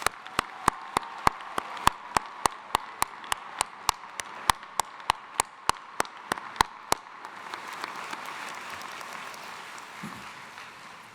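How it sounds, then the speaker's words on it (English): At a college commencement ceremony, graduates applaud: a run of sharp, evenly spaced claps rings out close by, then gives way to a softer, spread-out wash of crowd clapping. "you need to give yourselves a nice, round, warm applause"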